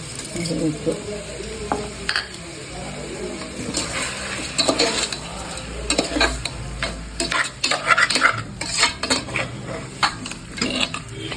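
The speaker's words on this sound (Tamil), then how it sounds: "வதங்கி வர்ற வரையும் நல்லா கிண்டணும்" Food, Indian-style pepper chicken with coriander and salt, sizzles in a hot pan while a utensil scrapes and stirs in uneven bursts, clattering against the metal; a voice speaks faintly underneath.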